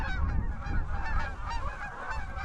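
A large flock of Canada geese honks continuously during a late-season public land hunt, a dense overlapping chorus of loud calls filling the whole stretch.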